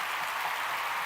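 A crowd applauds during a podcast episode, dense steady clapping filling the whole moment with no break.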